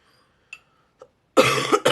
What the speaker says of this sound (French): Je tousse quand même moins fort qu'hier